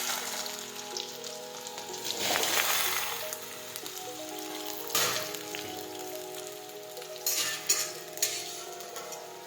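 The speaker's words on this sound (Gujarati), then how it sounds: "સમારેલો ભીંડો નાખી દઈશું." Chopped okra dropped into hot oil with mustard seeds and cumin, crackling and sizzling in a steady close hiss with bursts of louder spitting and pops, no talk over it.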